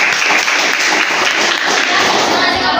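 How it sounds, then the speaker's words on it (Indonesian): A classroom audience gives a dense, continuous round of applause for a presenting student group, loud and close throughout, with cheering voices mixed in. "tepuk tangan untuk kelompok 6"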